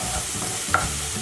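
Green chili and ginger paste stirred in hot ghee in a pan, a brief close sizzle with a single scrape of the spoon midway.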